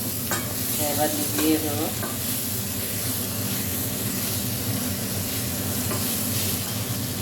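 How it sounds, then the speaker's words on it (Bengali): Moringa leaves fry in a hot pan with a continuous close sizzle and hiss while a spoon stirs them, and a voice speaks briefly over the cooking early on. "দেখো, সজনে শাকটা ভাজা হয়ে গেছে"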